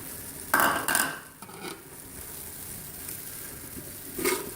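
Chopped corn kernels and vegetables fry in a pan as a spoon stirs them. A steady soft sizzle runs throughout, broken by a few close scraping stirs.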